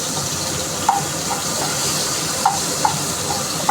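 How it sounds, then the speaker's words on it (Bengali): Red amaranth greens sizzling on onions in a frying pan, a steady broadband hiss of frying with a few faint clicks and pops scattered through it, close and continuous. "পেঁয়াজের ওপরে আমি শাকটা দিয়ে দিচ্ছি।"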